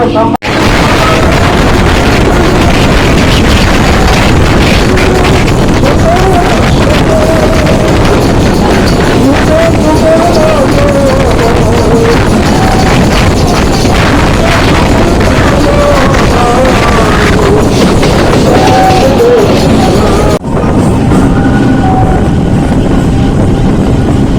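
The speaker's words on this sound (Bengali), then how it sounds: "এখন আমাদের ট্রেন এসে পৌঁছলো দুর্গানগর" A Sealdah–Barasat local train rumbles into Durganagar station, loud continuous rolling and clatter heard from on board, with a voice talking over it.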